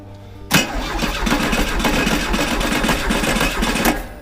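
A VW rail buggy engine cranked over with the starter for a compression test, turning steadily and rhythmically for several seconds, loud and close, then cutting off.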